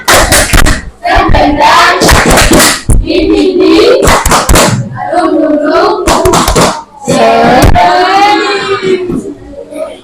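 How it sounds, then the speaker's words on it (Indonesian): A school class joins in a rhythmic 'tepuk semangat' clapping chant, with bursts of claps between loud group voices chanting and speaking throughout. "kita tepuk semangat dulu ya"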